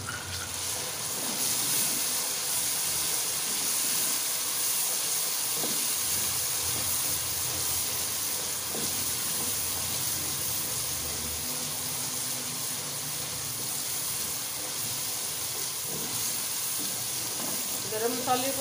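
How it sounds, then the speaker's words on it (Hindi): Whole garam masala (star anise, cloves, bay leaves, cinnamon sticks and cumin) fry in oil for a white chana pulao, a continuous dense sizzle and hiss heard close up, with faint background noise and no clear talk. "गरम मसाले को हम अच्छे से भूनेंगे ताकि इसका फ्लेवर जो निकल के आए मसाले में"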